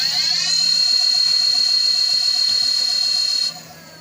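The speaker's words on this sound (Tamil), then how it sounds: "வண்டி தெளிவாக ரிவர்ஸ் ஓடுது." An e-bike hub motor spins in reverse after its wiring was swapped, giving a steady high electric whine with layered tonal hum that holds evenly, then drops sharply quieter near the end.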